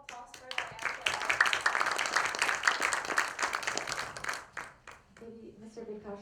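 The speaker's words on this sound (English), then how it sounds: "Maybe a round of applause for Diane" Applause from a forum audience after a panel speaker, a burst of scattered clapping under a voice talking, thinning out as speech continues at the end.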